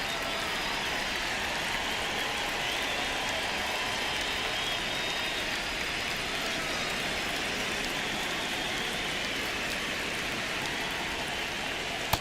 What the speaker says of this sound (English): It feels like we might be headed towards a rain delay if the weather doesn't ease up, Chris.